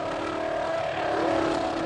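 A Honda F1 engine screams at high revs, held steady against the rev limiter in a sustained, loud, tonal whine with a slight pitch shift midway; no voices.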